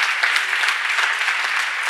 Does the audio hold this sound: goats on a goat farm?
no